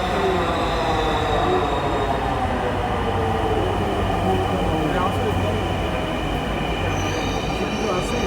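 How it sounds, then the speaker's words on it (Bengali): A Dhaka metro rail train pulls into a station with a loud, sustained rumble and high squealing of the wheels on the rails, building as it arrives. "দেখতে পাচ্ছেন ট্রেন অলরেডি চলে আসতেছে আমরা এখনই এই ট্রেনটিতে উঠব"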